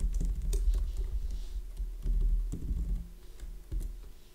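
Code is typed on a Mac keyboard in quick, uneven bursts of soft clicking, close and fairly quiet, with no talking.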